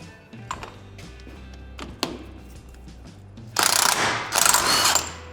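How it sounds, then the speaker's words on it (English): A ratchet works a nut loose on a Dig Dug arcade machine, a few quiet isolated clicks and thunks followed by two louder bursts of rapid ratcheting near the end. "I just need to remove this nut and try to seal it back up"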